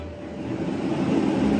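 A steady low roar of heaters running, a constant blowing hum that grows slightly louder toward the end, with no voices.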